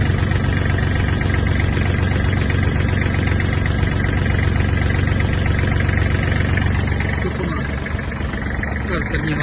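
A Kubota GL-241 Japanese mini tractor idles with a loud, steady diesel chug and a rhythmic knock. It runs close and constant for the whole stretch, and someone talks over it.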